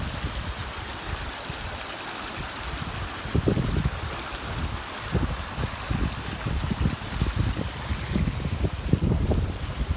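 Water pouring steadily into a broad spillway pool along a creek trail, a continuous rushing wash with gusty wind noise over the microphone, heard from nearby without any talk.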